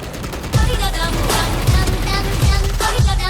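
Bursts of rapid automatic gunfire in Valorant rattle loud and close, with repeated sharp shots over a busy game mix and someone talking in the background.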